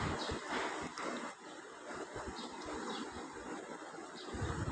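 Constant rushing gusts of strong wind in a dark village before rain, buffeting the microphone, a loud unbroken roar with no voices.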